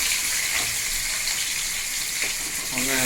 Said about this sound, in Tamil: இப்போ கொஞ்சம் கருவேப்பிலை போட்டுக்கலாம். எப்படி பொரிக்கு பாருங்கள்.